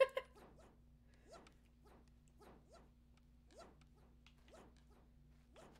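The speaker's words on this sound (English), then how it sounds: "Normal dog. I can't shoot it." A dog in a video game gives a string of short, faint barks and yips at a loose, steady pace, about a dozen in all.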